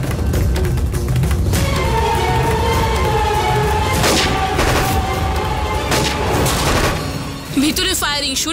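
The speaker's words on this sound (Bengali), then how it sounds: "ভিতরে ফায়ারিং শুরু হয়ে গেছে" Gunfire in a shootout between police and terrorists in a TV drama scene: a dense barrage of sharp cracks and booming bursts, loud and close, with sustained tones running underneath and a brief lull near the end.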